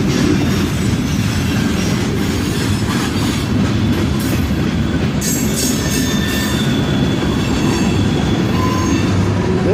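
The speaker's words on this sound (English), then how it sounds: "This is the slowest train I've ever encountered." A freight train rolls by slowly and steadily, a dense low rumble with faint metallic squeals and clatter on top, continuous and close throughout.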